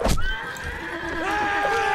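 A horse in the video game Mount & Blade: Warband whinnies once with a rising, wavering call, near and clear, over a low background.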